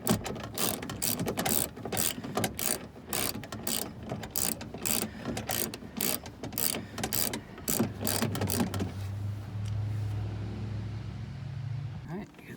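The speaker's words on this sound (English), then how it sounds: "I just got to tighten up these bolts." Rapid ratchet-and-pawl clicks in repeated bursts from a hand ratchet tightening window regulator bolts inside a Jeep Grand Cherokee door, close and fairly loud, then a low steady hum as the ratcheting stops.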